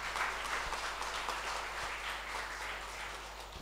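A church congregation applauds, a dense wash of clapping from many hands that stays steady and fairly distant, slowly tapering toward the end.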